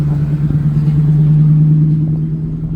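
Car lapping The Bend circuit with a steady, loud engine drone and a low rumble throughout, no voices.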